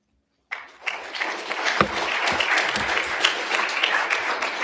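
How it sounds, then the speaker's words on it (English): Applause breaking out after a talk on the US and EU constitutions, a full room of hands clapping steadily and loud for several seconds after a brief silent start. "Maybe another round of applause for our speakers, Barbara Cohn, Alex Tokarev."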